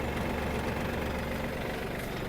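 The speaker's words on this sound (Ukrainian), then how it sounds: "Ось так працює кардан." A Yanmar F-200 mini tractor runs with its cardan shaft turning, giving a steady, close, continuous engine drone with a low rumble that holds an even level throughout, with no talk over it.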